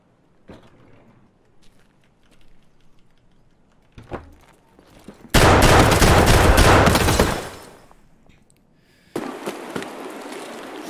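Automatic gunfire in Escape from Tarkov, fired through a window: a few scattered shots, then a loud sustained burst of rapid fire lasting about two seconds, followed by another shorter burst near the end.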